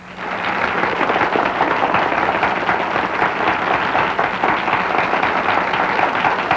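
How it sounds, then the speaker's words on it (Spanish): A television studio audience gives sustained applause, a dense steady wash of clapping that stays loud and even throughout, with no talk above it. "nuestro lacónico amigo don Serén Santiago, a quien vamos a recibir con un aplauso."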